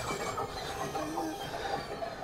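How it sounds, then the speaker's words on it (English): A hand-cranked manual spin washing machine, built from a salad spinner, whirs steadily as its basket turns, a continuous smooth rumble with faint rattling, fairly close and with no talk over it. "That noise is so satisfying."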